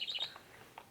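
A bird call, a couple of quick high chirps up front followed by a fainter tweet, brief and fairly quiet with no talking.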